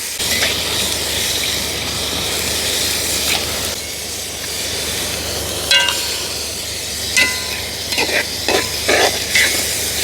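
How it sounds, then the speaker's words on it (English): A coconut drops mixture with sugar being stirred in a pot over an outdoor bush fire, a loud continuous hiss and sizzle with a few scraping clinks near the end. "So mix it in, properly mix in the sugar with it."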